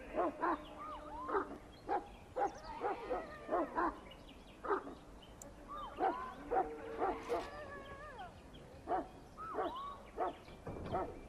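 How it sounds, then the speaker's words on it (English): Mabari war hound from the video game Dragon Age: Origins barking and yipping in short repeated bursts, with whimpers between them, fairly close and clear with no talk over it. "I fear your hound has the kitchens in uproar once again"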